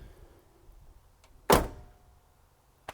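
A single solid thunk of a 1977 Chevrolet Impala 9C1's back door shutting nearby, with a short fading rumble and a faint click just after in a quiet space.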